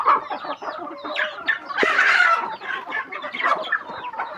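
Chickens including a breeding hen cluck and squawk close by, a busy overlapping run of calls with a louder burst in the middle, and nobody speaking.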